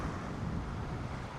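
Steady low rumbling wind gusts off the hills buffeting the microphone aboard a sailboat, continuous and fairly loud throughout, with no voices.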